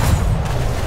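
Ship cannons boom from a brig in the video game Atlas, a dense low rumbling blast of cannon fire filling the brief moment, loud and close.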